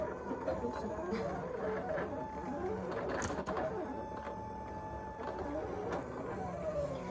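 Silhouette Cameo cutting machine at work while crafting a glittery dog design, giving off a quiet, continuous whirring and scraping hum with faint shifting motor tones and small clicks, steady and somewhat distant, with murmured voices in the background.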